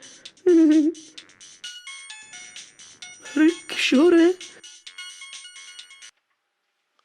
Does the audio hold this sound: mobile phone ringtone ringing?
yes